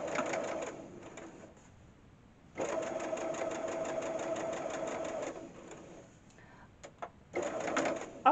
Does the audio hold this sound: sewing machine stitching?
yes